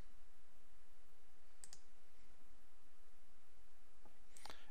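Computer mouse clicks during a software demo: two short, faint clicks spaced a few seconds apart over quiet room hiss, no speech.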